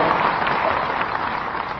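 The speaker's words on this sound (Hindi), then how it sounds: "एक बार जोरदार ताली बजा के उनका बधाई और शुभकामना दो" An audience applauds to congratulate a new board chairman at a ceremony in Chhattisgarh, producing a dense, continuous, fairly loud burst of clapping with no clear pauses.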